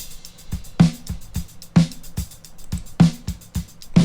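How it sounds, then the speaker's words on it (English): Dry snare drum stem from a mixed song with no processing, struck alone in a steady pattern: sharp, bright cracks with a short ringing body, alternating with softer hits between, close and fairly loud. "This is the sound of snare without any processing."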